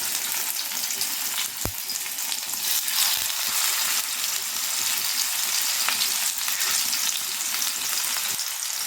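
Vanjaram fish frying in hot oil with curry leaves over a lowered flame, a steady close sizzle that runs throughout with a sharp clink of a utensil early on, with no voices.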